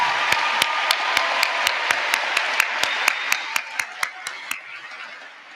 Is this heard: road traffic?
no